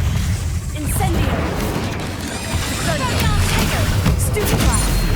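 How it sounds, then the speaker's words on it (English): An Incendio fire spell cast in Hogwarts Legacy during a fight with spiders, a continuous loud roaring, crackling blast with dull booms running throughout, a voice faintly underneath. "Incendio!"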